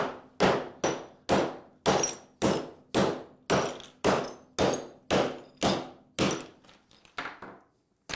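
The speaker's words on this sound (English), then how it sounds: "We're going to go ahead and chip out the rest of this towel and crack it up." A hammer chips out a broken tile under a towel, striking roughly a dozen times in a steady, evenly spaced series of close, sharp cracks and thunks, the last few blows quieter and less regular.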